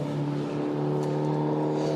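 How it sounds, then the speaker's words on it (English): A KTM GT4 race car accelerates hard past the pits at Spa-Francorchamps, its engine a steady, loud, buzzing drone held close throughout with no break. "The KTM accelerates away down past the endurance pits"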